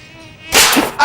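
Mosquitoes whine with a thin, high, steady buzz close to the ear, then a sudden loud burst of broadband noise cuts in partway through.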